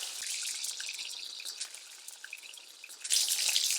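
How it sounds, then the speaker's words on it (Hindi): Paneer cubes crisping in hot oil for restaurant-style chilli paneer: a bright, crackling sizzle with scattered pops that swells louder toward the end, and no voices. "इसको हमें सिर्फ 2 मिनट फ्राई करना है, क्रंची पकाने के लिए बस।"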